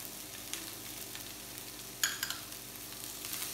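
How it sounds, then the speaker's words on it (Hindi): Jeera aloo potatoes roasting in a pan with coriander added, a quiet steady sizzle with a few faint clinks of stirring partway through. "और इसको थोड़ी देर दो मिनट आप भूनेंगे ताकि ये थोड़े क्रिस्प हो जाए"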